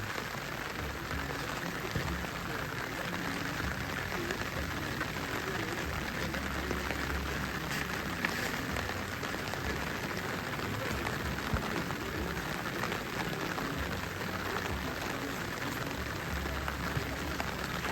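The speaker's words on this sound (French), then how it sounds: "Il pleut à grosses gouttes." Steady, dense rain hisses continuously, an even wash of droplets with no pauses, while faint background voices sit far under it.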